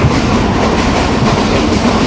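The Kohat Express passenger train runs between Rawalpindi and Kohat with a loud, steady rumble and a clickety-clack rhythm of wheels on rails, heard up close from on board.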